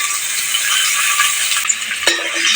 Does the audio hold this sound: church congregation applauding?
no